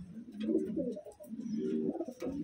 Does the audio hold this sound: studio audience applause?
no